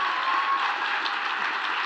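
Dense, steady applause from a large audience at a live National Geographic talk, welcoming a speaker to the stage, with continuous clapping at even volume throughout and no talking over it.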